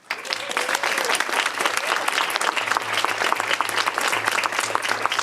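An audience at the opening session of a civic technology conference bursts into loud, sustained applause, many hands clapping densely with a few cheers mixed in.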